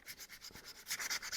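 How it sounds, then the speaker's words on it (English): Body filler on a sculpted clay prop gun being sanded with 400 grit sandpaper, quick rhythmic scratchy rubbing strokes, close and fairly quiet, about a dozen passes in rapid succession. "sanding the filler stuff that I did right here, some 400 grit"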